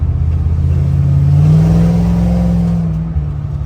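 A 1971 Dodge Charger V8, fitted with an Eaton Truetrac differential and 3.90 gears, revs up while driving; a loud, steady engine drone climbs in pitch and then eases off over a few seconds.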